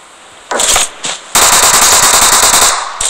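Machine gun fire in PUBG, loud and close: two short bursts, then a long sustained stream of rapid rounds lasting well over a second before cutting off, with no speech over it.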